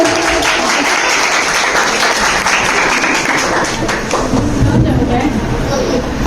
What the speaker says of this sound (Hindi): आपकी भरपूर तालियों में मरियम नवाज को